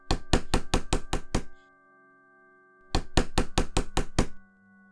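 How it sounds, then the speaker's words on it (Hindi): A horror-story sound effect of knocking on a door: two close, loud bursts of six rapid hard knocks each, separated by a couple of seconds of near silence. "अचानक से दरवाजे पर फिर दस्तक हुई।"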